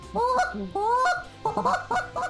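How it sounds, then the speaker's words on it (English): A hand-blown goose call, freshly tuned by its maker for competition calling, gives repeated loud honks and clucks close up, two long honks followed by a quick run of shorter ones with no talking. "I blow every call just to make sure that I'm getting the right sound out of that call."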